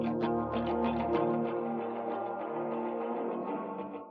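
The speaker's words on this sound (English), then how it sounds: "There you can hear the spring reverb" Guitar through the spring reverb of a Galaxy Tape Echo plugin, with a few plucked notes swelling into a dense, washy reverberant tail that slowly decays and ends in silence, with no talk.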